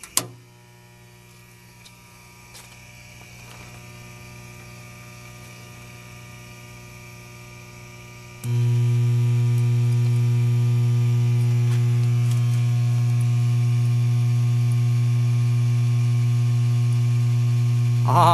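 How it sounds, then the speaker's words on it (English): A homemade electric kiln, its heating coil drawing 15 amps, gives a steady electrical hum that jumps abruptly to a much louder, thicker drone halfway through and then holds constant, with no speech. "Let's fire the kiln up now and see what temperatures we get."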